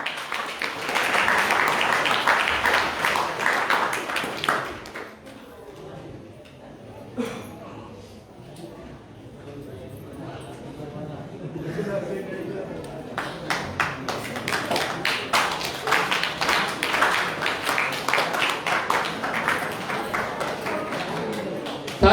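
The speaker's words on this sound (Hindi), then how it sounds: "चलिए तालियों से धन्यवाद दें।" An audience at a temple music competition claps in a dense burst, stops while a voice speaks, then breaks into fuller sustained applause that carries to the end.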